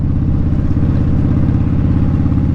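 A manual-transmission car engine lugs between gears, running steadily at low revs with a rough, labored rumble and faint clatter, sounding strained, with no voices.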